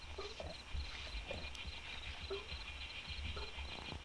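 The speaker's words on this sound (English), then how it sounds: "Sounds like some crickets chirping." Faint, steady high-pitched chirping of crickets runs throughout, with occasional soft clicks and low thumps in a quiet outdoor atmosphere, at the start of a track.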